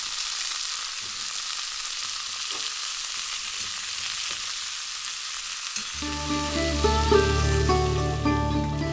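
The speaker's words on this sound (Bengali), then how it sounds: "রসুন একটু লালচে করে ভাজবো" Crushed garlic fries in hot oil with a continuous crackling sizzle and occasional stirring taps; partway through, tonal background music rises beneath the frying.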